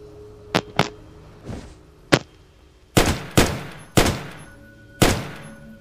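Gunfire in an Egyptian horror adventure video game, several sharp shots spaced irregularly, some with ringing tails and echo, loud and close with no talking.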